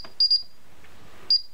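A Paradox alarm keypad gives high, clear electronic beeps after the alarm is armed: a quick triple beep, a pause, then a single beep, heard close with no talking.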